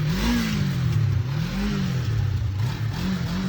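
A Kawasaki Ninja 500 motorcycle, just repaired after a carburetor problem stopped it starting, idling close by with a steady, loud engine note that rises and falls in gentle rev swells.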